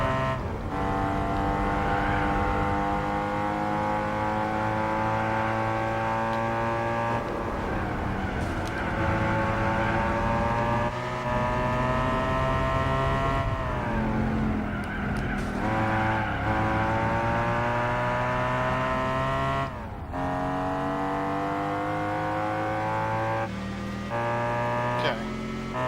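Several race cars in Gran Turismo 4 accelerate hard with continuous loud, layered engine whines that climb in pitch and drop at gear changes, sustained without pause.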